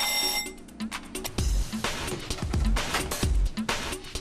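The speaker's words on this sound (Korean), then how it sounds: "작업 시간을 알리는 소리에 배 위로 올라오는 선원들" An alarm calls the crew to work aboard a Jeju fishing boat hauling yellow croaker. A loud electronic ringing tone starts it, then heavy thumps and clanks of deck activity follow, close and busy.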